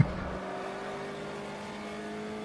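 Copa Fuscas race car from the Automobilista racing game, its engine droning steadily at a constant pitch after a brief sharp onset, close and continuous without much change.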